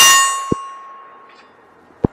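Bullets from an FK BRNO PSD pistol strike a steel target outdoors: a bright metallic clang rings out and slowly fades, followed by two sharp, short impacts spaced well apart, with no talking.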